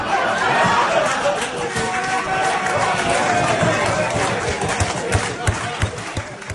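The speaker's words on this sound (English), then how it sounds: "that raucous round of applause at the end was from the England fans in attendance at this Harry Redknapp speaking gig" Raucous applause and cheering from England fans in attendance at a Harry Redknapp speaking gig, a dense, loud crowd roar with clapping that fills the whole stretch.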